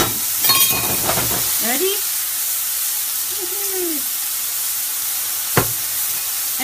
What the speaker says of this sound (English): So I push the onions to the side. I'm stirring the mushrooms.